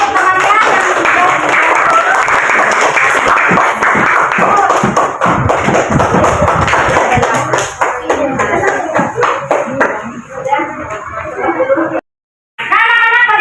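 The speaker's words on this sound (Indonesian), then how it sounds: "Jadi tepuk tangan dulu untuk temannya yang sudah." Schoolchildren in a classroom applaud a classmate with dense, loud clapping and thumping that fades after several seconds. Children's voices come through toward the end.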